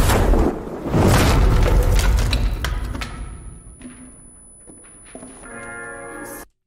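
A fiery transition effect in a song hits as a deep booming whoosh that swells and slowly decays, followed by quieter musical tones and ringing notes at the end.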